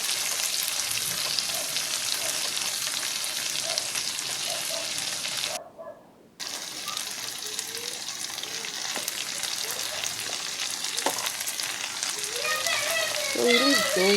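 Tomatoes, onions, salt, black pepper and curry powder frying in a pan for a spinach dish, a steady close sizzle throughout with a brief drop near the middle, as a voice talks over it.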